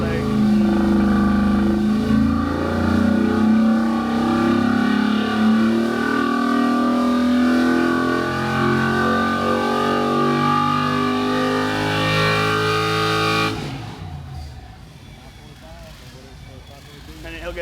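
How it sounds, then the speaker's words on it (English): An engine revved hard on a dyno at the BluePrint Engines facility, a loud sustained roar with shifting tones that cuts off sharply near the end, leaving quieter shop noise behind. "all you do is rev up engines all day"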